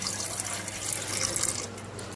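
Ganges water poured as an offering during a Shiva puja for Shivratri, a steady broad splashing pour that runs continuously and close for about two seconds, with no one speaking over it.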